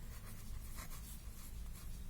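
A statistics solution step is written out by hand in a steady, continuous scratching under a constant background hum, close and moderately loud.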